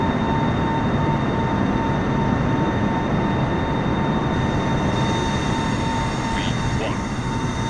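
Boeing 747-8i engines roar steadily through a takeoff roll on a runway in Microsoft Flight Simulator, a loud, continuous broadband rumble with a faint tonal whine, carrying on unchanged from start to finish.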